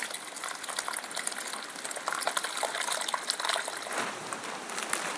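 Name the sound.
washing bhokar wild vegetable in water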